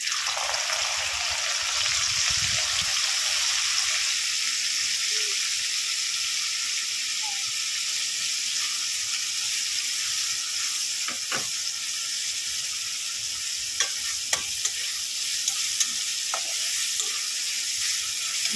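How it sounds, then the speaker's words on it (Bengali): Onions fry in hot oil in a pan, giving a steady, fairly soft sizzle and hiss, with a few clinks from stirring toward the end. "ভাজা হয়ে গেছে, পেঁয়াজ দিয়ে দেবো।"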